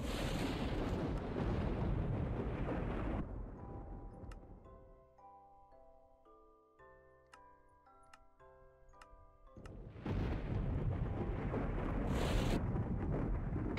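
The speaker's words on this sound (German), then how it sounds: "Jetzt gewittert's gerade nochmal richtig." Loud thunder in a Minecraft thunderstorm booms at the start and again at the end, framing a quieter middle of ticking, chiming game tones.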